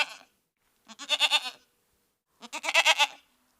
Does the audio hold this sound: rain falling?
no